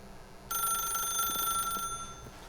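A telephone rings in The Stanley Parable, one electronic bell ring lasting over a second after a brief quiet lead-in, clear and close before fading out.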